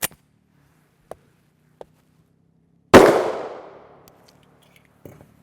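Single loud 10mm Auto pistol shot firing a Magtech 180 grain FMJ round from a 5-inch barrel, a sharp crack with a long decaying echo, preceded and followed by faint metallic clicks and handling noises.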